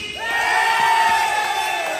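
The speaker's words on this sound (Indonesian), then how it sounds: "Tepuk tangan buat Pak Didi." An audience cheers and yells for Pak Didi at a company prize event with dancing, a loud collective whoop that swells quickly and holds steady for about two seconds.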